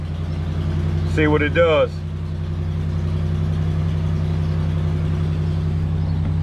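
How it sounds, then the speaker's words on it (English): A 2009 Hemi Ram pickup truck's V8 engine idles with a steady low rumble throughout, while someone briefly speaks over it near the start. "So we're gonna let it sit here and idle for a minute"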